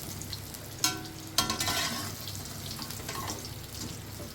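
Pointed gourds sizzle in hot oil with a pinch of turmeric, frying for dorma in a kitchen: a steady soft crackle, broken by a couple of louder spatters or stirring scrapes near the start, with no talk.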